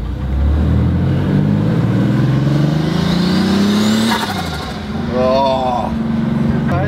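A turbocharged Porsche 911 fitted with a Protomotive turbo kit revs hard and close. The engine's pitch climbs steadily, then drops briefly before rising again under a loud, continuous roar.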